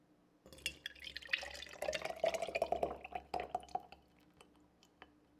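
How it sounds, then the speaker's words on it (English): Oil pours in an uneven stream into a glass jar in a kitchen, trickling and dripping with bright glassy splashes for a few seconds before tapering off to a few last drips. "I had some, problems pouring the oil into the jar"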